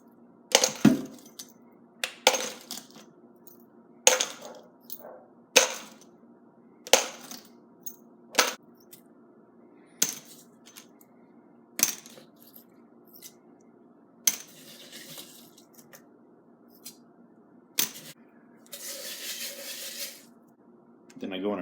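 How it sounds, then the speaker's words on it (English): Tumbled brass cartridge cases and stainless steel pins drop into a bucket in a string of sharp metallic clinks and rattling bursts, separated by quiet gaps, with a brief longer shaking rattle near the end. "I just empty the brass into here, drop all the pins back in the bucket"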